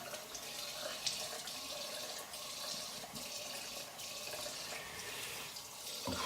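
Tap water running steadily into a sink to wet a shaving brush, a soft continuous splashing stream with faint clinks.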